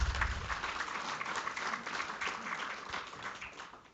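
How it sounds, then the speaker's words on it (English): Seminar audience applauding a speaker, a dense patter of many hands clapping together at steady strength for several seconds from a hall of moderate size. "Let's give a round of applause."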